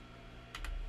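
A few quick keystrokes on a computer keyboard while a word is entered in 3D modelling software, two close, crisp taps over a quiet room hum.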